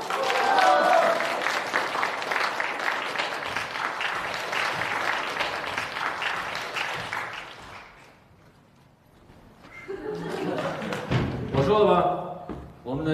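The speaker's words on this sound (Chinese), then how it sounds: "刚才大家的掌声非常的给力" Audience at a prize-drawing event breaking into sustained, dense applause that fades out midway, followed by a host speaking over a lively room.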